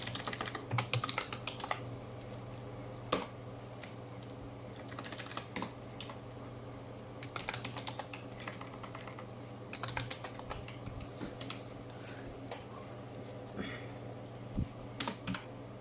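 Steady typing of PHP code on a computer keyboard, quiet and close, with irregular bursts of key clicks and occasional heavier strikes over a constant low electrical hum.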